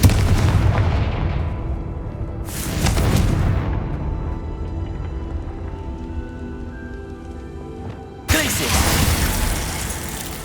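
Fire spell blasts from Hogwarts Legacy crash in with loud, broadband booms, one at the start, another around the third second and a third late on, each decaying into a ringing tail.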